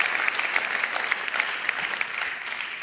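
A church congregation applauding, dense steady clapping from many hands filling the room, close and even throughout with no voices over it.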